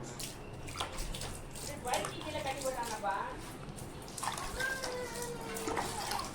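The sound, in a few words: water being sprinkled over planted grape cuttings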